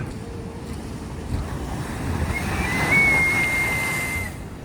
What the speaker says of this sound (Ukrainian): сьогодні такі просто нереально величезні волни